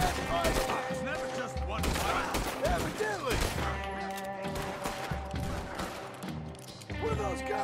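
Gunfire in the video game Red Dead Redemption 2, a rapid series of sharp shots and crashes in a busy firefight, loud and close, with voices and game sounds mixed in.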